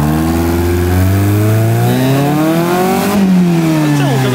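Off-road vehicle engine at an expedition competition revs hard and loud, pitch climbing steadily then dropping and rising again, close up and continuous with no talk over it.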